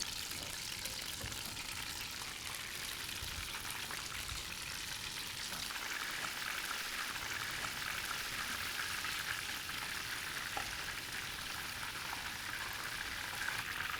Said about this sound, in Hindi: अब फिश को हमें फ्राई करना है।